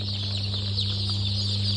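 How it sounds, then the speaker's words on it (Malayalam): Native country chickens cluck softly at a hatchery over a steady hum of machinery, with brief bird calls in the background. "അവിടെ ഇരിക്കുന്ന തനി നാടൻ കോഴികൾ."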